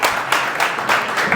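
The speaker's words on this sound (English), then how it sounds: "Big round of applause." Conference audience applauding to welcome a fireside chat, a steady wash of many hands clapping with a few swells, fairly loud and with no voices over it.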